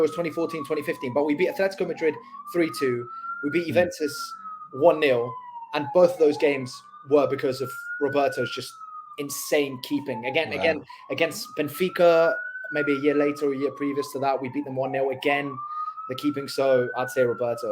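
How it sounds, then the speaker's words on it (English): Police sirens wail on New York City streets, rising and falling in repeated sweeps for the whole stretch, sitting beneath someone talking steadily up close. "And apologies about the sirens."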